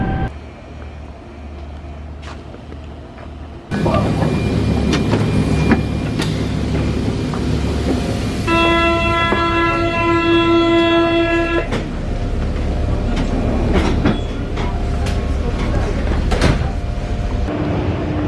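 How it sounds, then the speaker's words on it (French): Steady rumble inside a tram heading to the airport, rising sharply after a few seconds, with a bright tonal whine or chime layered over the ride midway and the rolling noise continuing close and loud to the end. "là je suis dans le tram pour aller à l'aéroport"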